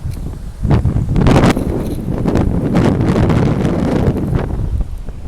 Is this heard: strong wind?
yes